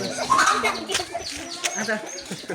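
Village chickens cluck and call nearby, brief bird sounds scattered among people talking over them for most of the moment.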